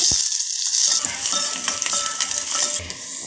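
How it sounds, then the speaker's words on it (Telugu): Chopped garlic frying in hot oil for a lentil dish, a steady bright sizzle close up with occasional spoon scrapes and clinks against the pan, no talking. "వెల్లుల్లిపాయలు, ఇవి బాగా వేగాలండి"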